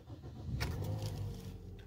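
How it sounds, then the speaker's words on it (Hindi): A car engine is started with a key while the driver's foot rests on the brake: a brief burst of cranking and ignition catching, then a quiet idle, all close and fairly soft. "लगाई चाबी, ब्रेक पे पांव रखा और करते हैं स्टार्ट"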